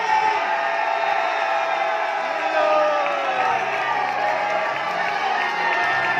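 A church congregation at a sermon in Haryana shouts, screams and cheers loudly and continuously, a dense crowd roar with whoops lasting throughout.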